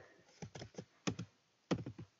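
Keys clack on a computer keyboard in a few quick clusters of taps with short gaps between them, close up and quiet, with no voices.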